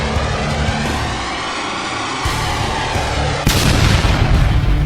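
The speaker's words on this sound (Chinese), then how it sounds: "那刚才巨大的爆炸声音" A huge explosion in a sci-fi battle scene, with a heavy rumbling roar that jumps sharply louder partway through into a loud, dense blast.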